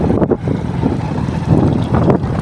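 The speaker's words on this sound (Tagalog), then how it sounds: "malakas pa yung hangin" Strong wind roars and buffets the microphone in a continuous, loud rumble with gusty surges, heard outdoors while travelling along rough roads.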